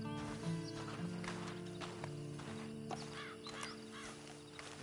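Horse hooves clip-clopping in Red Dead Redemption 2, quiet rhythmic hoof falls with a neigh and soft snorts, faint overall with game ambience and a brief low voice in the background.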